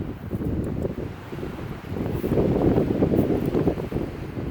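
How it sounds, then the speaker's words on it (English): Strong wind buffets the microphone outdoors on an open Utah hillside during an elk shed hunt, a continuous loud rumbling roar that swells and gusts harder toward the end, with no talking. "Sorry about the wind, it's blowing pretty hard right now."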